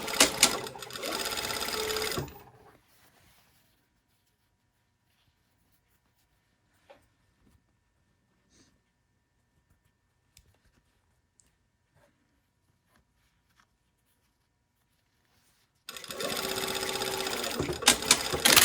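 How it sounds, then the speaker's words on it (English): A sewing machine stitches a regular seam toward a hem on an invisible zipper, buzzing in a loud close rapid run for about two seconds, falling silent for a long stretch broken by faint clicks, then running again. "we're going to go to a regular stitch. And I'm going to pick up right where I stopped with the basting and sew all the way to the hem"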